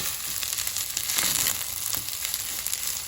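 Rice with added flavoring sizzling and frying in a pan, a loud, steady, close crackle with a slight swell midway and no speech.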